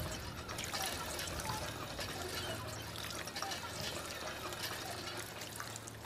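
Water pours and trickles from a pump in the Fallout 4 video game, a soft continuous splashing stream that stays fairly faint throughout, with no voices.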